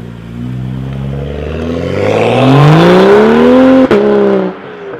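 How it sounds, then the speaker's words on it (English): A loud turbocharged car engine revs up with rising exhaust roar, then a sharp turbo backfire pop cracks out as it backs off, sitting close and dominant. "Oh, the backfire of the turbo noises."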